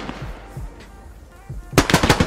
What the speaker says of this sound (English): I'm being grenaded.